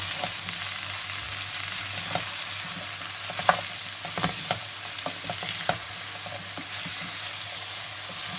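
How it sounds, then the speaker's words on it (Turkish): Fava beans sizzle and stir while roasting in a pan, a steady close frying hiss with scattered crackles and a few louder pops, no voices. "Şimdi baklayı böyle birkaç dakika kavrulsun."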